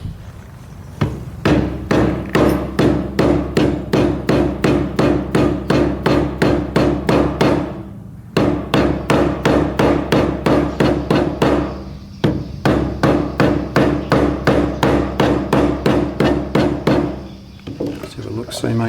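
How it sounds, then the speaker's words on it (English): A rubber hammer taps quarter window glass into its seal on a Chrysler Charger during body work, a long run of quick, steady, close knocks that pause briefly about every four seconds. "gently bump that on with the rubber hammer very carefully."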